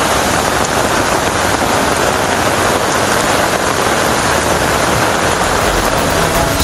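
Heavy rain pours steadily in a Jakarta street during a storm, a dense, loud hiss of water hitting surfaces that continues unbroken, with a faint low engine rumble underneath and no voices.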